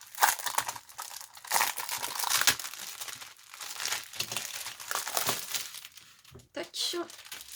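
Crinkly plastic packaging of a Craftelier craft supply haul being torn open and unfolded, with close, busy crackling and rustling bursts throughout while someone speaks French.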